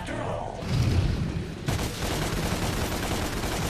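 Rapid video-game gunfire in DmC: Devil May Cry as spiders are shot, a dense crackling volley that swells briefly then settles into steady, continuous shooting noise.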